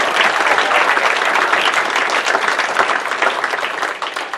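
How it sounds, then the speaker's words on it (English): A comedy club audience applauds a volunteer from Virginia, giving loud, dense clapping from many hands that holds steady for several seconds before starting to thin out. "Please give a big round of applause, everybody"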